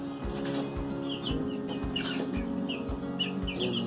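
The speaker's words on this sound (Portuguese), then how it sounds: "Esse galinha é bem jeitosinho." Bantam chickens of the garnize breed cluck in a coop, short soft clucks and scattered chirps repeating over a constant low background hum, fairly faint and close.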